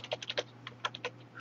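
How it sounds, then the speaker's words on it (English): Quick, irregular keystrokes clatter on a computer keyboard while information is entered, a short burst of close taps over a faint steady hum. "it's just saying me typing all that information out"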